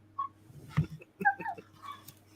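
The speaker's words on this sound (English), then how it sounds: "Why is there a dog barking?" A dog gives several short whimpering yips and squeaky cries at close range, in brief uneven bursts over about two seconds, with no talking.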